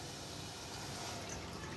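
Water poured over layered chopped chayote, snake gourd and raw plantain in a pot for aviyal, a steady close splashing, gurgling flow that runs continuously throughout.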